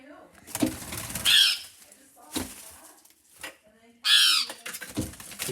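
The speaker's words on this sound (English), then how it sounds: "I think they're called tui birds." A tui bird trapped inside a kitchen flaps its wings in loud, close bursts, two or three flurries with quieter gaps between, while a person talks softly in the background.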